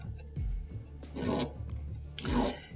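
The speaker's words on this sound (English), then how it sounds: "I'm going to start right at this area right here, and I'm going to start filing that" A hand file works the thumb safety of a 1911 pistol, giving three separate rasping strokes, each roughly half a second, close and fairly quiet with short pauses between them.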